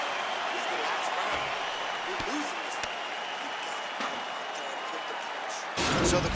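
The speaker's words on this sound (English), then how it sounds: "crowd voicing its appreciation after that round" Crowd at a UFC Fight Night event cheering and applauding between rounds, a steady broad roar of voices and clapping that holds throughout and swells louder at the very end.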